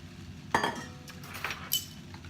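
Bite-sized carrot pieces tipped into a cooking pot for coq au vin, a sharp clatter against metal followed by a few lighter knocks and clinks, no voices.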